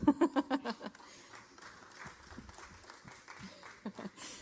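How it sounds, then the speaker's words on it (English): A short round of applause from an audience at an NBA media day for the 2019-20 season, scattered claps at the start fading into a thin, quieter patter with some murmuring. "the real round of applause."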